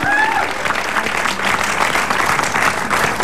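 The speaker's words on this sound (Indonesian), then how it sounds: "Kita kasih tepuk tangan dulu." A studio audience on an Indonesian TV program breaks into loud, sustained applause, a dense wash of clapping with a brief tone at the start and voices faintly mixed in.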